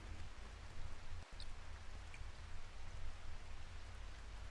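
Steady rain from the video game RimWorld, a soft continuous hiss with faint scattered drops, heard alone and fairly quiet throughout.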